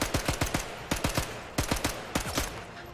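Automatic gunfire from the video game Sniper Elite 5, fired in three or four rapid full-auto bursts of sharp cracks with brief pauses between them, loud and close with no talking.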